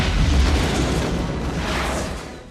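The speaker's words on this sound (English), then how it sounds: "A large firework missile that hits him in the chest, sends him into a tower, and blows him up." A large firework missile explodes in Disney's animated Mulan, a loud deep boom with a rumbling, crackling tail that fades out over a couple of seconds.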